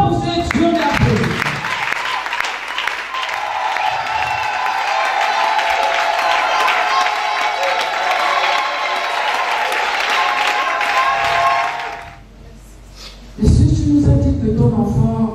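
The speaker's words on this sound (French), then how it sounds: "Acclamons pour ce Dieu merveilleux" A church congregation applauds loudly and steadily for about twelve seconds at a testimony service celebrating a healing, then the clapping fades and brief silence falls before voices return near the end.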